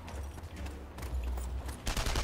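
Gunfire in the World War II shooter Enemy Front: a rapid, sustained burst of automatic shots mixed with distant firing and a louder cluster near the end.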